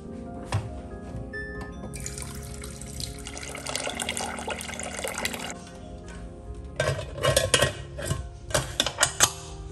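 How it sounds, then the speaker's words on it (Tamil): Tap water running and splashing in a kitchen sink while rice is washed, a steady close wash with clattering bursts and drips toward the end. "அரிசி கழுவும் போதே தண்ணி எடுத்து வச்சிட்டேன்னா அதுக்கப்புறமா வந்து செடிக்கதை ஊற்றிப்பேன்."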